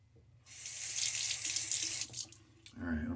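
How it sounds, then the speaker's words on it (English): Tap water runs steadily into a sink to rinse a single-edge razor, a strong, even hiss for about a second and a half that then cuts off, followed by a short spoken phrase. "All right, let's get a rinse going on."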